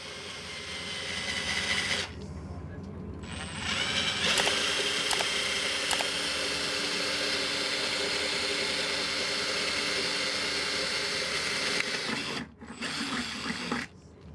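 A power drill bores holes for mounting a swivel on a boat, with a loud, sustained whirring grind interrupted by brief pauses and clicks, ending in a short final burst.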